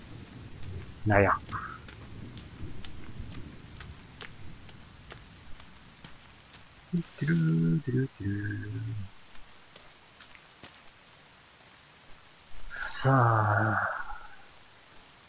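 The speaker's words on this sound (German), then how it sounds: "Regen und Gewitter." Rain and a thunderstorm in the survival video game The Forest make a steady, soft patter throughout, while someone speaks briefly in German at a few points over the rainfall.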